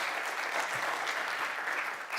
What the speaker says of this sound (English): Round of applause for Mathias